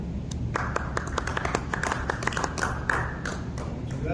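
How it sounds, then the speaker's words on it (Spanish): A conference audience at an electrical congress claps in a sparse, uneven round of applause, individual claps standing out distinctly over a low room murmur. "brindémosle un gran aplauso"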